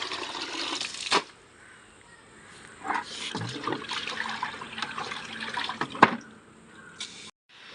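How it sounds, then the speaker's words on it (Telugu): Soaked clothes being washed by hand with water, wet splashing and sloshing at close range with several sharp slaps and gurgles, fairly quiet and without talk. "ఈ బట్టలు నానబెట్టాను కదా ఇవైతే వాష్ చేసేస్తాను"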